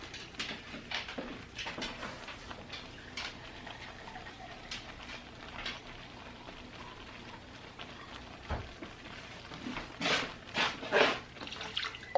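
Water is poured into a pan while gravy is being made in a home kitchen, giving faint intermittent splashing and trickling with soft clinks, and a louder burst of pouring near the end.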